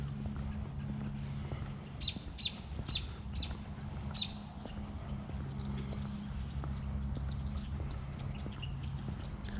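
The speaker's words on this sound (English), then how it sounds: "Lots of birds." Many birds chirping in a riverside park along a river bend, several short bright calls repeating from mid-distance over a quiet rumbling outdoor background, with a few soft footstep-like taps.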